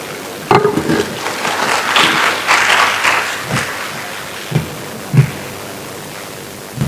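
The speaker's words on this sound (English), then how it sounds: "A round of applause for Linda again." Audience clapping at an international contract farming conference, a broad patter of hands that swells and thins over several seconds, with a few sharper thumps near the end.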